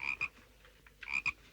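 A frog croaks close by in short paired bursts, two rasping calls at the start and another pair near the end, with quiet gaps between and no talking.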